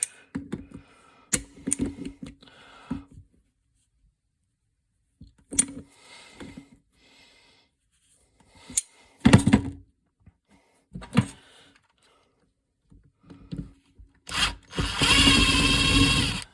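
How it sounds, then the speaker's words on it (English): Metal vice grips clicking and scraping as they are turned to free a part on a 1997 Polaris 500 snowmobile carburetor, heard as short sporadic ratcheting bursts with gaps, then a louder sustained rush at the end. "Do a few more turns with the vice grips here."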